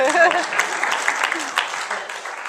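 Wedding guests clap for a couple of seconds during the speeches, a scattered patter of applause with a voice briefly heard at the start.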